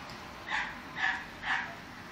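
A dog barks three times in a steady, evenly spaced rhythm, each bark loud and close and standing alone with no talking, part of a long run of nonstop barking.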